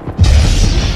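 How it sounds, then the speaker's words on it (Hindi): A single deep, booming explosion bursts out after a brief quiet moment and rumbles on loudly, heavy in the low end. "अचानक उसके पीछे इतना खतरनाक धमाका हुआ कि सब कुछ तबाह हो गया"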